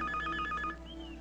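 A telephone rings with a rapid trilling bell, one short ring burst that cuts off, followed by a quiet room.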